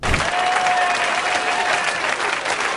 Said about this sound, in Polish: śmiechom i oklaskom nie było końca